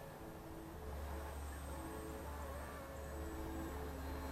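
A radio-controlled model airplane flies nearby with a steady, continuous engine drone and a faint high whine, holding at an even, moderately loud level throughout.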